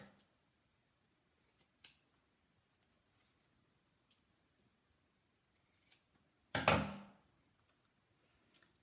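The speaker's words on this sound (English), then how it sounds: "So I'm now going to trim it." Scissors trim a piece for a Christmas wreath, giving a few faint, scattered snips and one louder close cut near the end, with quiet pauses between them.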